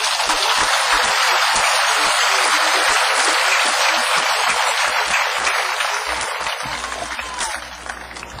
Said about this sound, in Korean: 정신나게 하면 박수를 크게 해보지.